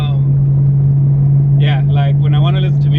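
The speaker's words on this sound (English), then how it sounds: "the drone in this car is terrible" Inside a fifth-generation Chevrolet Camaro fitted with aftermarket headers, a loud, constant low exhaust drone hums steadily throughout while a person talks over it.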